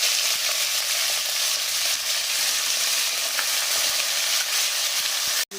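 Masala for Afghani chicken korma fries in a pan while being stirred, a loud, dense, steady sizzling hiss up close with faint spoon clicks, ending with a brief sharp cutoff.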